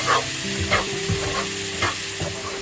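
All-purpose flour cooking in a pan for lasagne, a low steady sizzle with soft repeated scraping strokes of a spoon stirring, fairly close.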